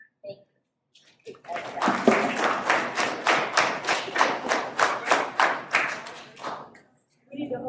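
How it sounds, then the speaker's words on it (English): Children and adults clapping at an elementary school spelling bee, a burst of applause with distinct individual claps that rises after a brief spoken word, holds for about five seconds, then stops as speech resumes. "We need to hold the applause."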